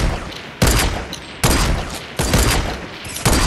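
Rapid bursts of gunfire from a Fortnite match, four loud volleys each cutting in sharply and then tailing off, close and dominant with no talk over them.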